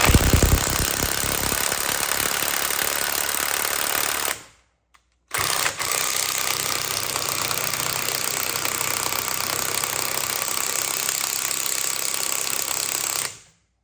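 Impact wrench spinning a ball joint bolt on a stock V8 vehicle, loud and close with a continuous rattling hammer, a short pause partway through, then a long steady second burst that stops abruptly.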